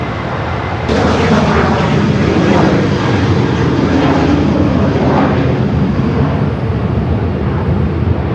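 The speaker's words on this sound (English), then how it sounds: "Air Tahiti, the flight heading to Paris, also should continue its taxi up here to the north" Airliner taxiing on the ground at LAX, including an Air Tahiti jet bound for Paris, giving a steady, loud, broadband engine roar that holds constant throughout with no voices.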